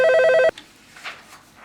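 A telephone rings loudly for an incoming call on a staged call-in talk show at a Purim performance, giving one steady, bright electronic ring burst that cuts off abruptly, followed by faint room noise.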